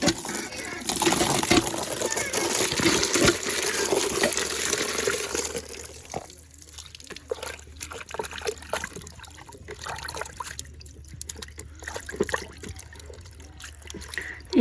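Coriander leaves being washed: water runs and trickles loudly for several seconds, then gives way to softer, scattered splashes and drips.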